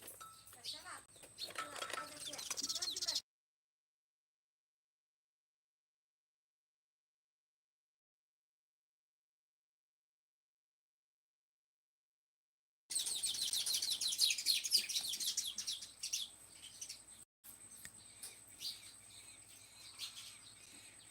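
Sparrows chirp busily in two lively bursts split by a stretch of silence, with faint voices and low background noise underneath.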